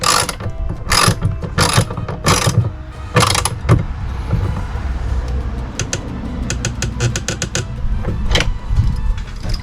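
A ratchet wrench tightens a nut on an electrical battery connection in a camper van build, heard as loud close bursts of clicking strokes, then a faster run of short ratcheting clicks.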